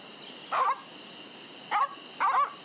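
Dogs outside the mansion in The Secret of Monkey Island bark in three short, sharp bursts, spaced irregularly over a steady hum of game ambience.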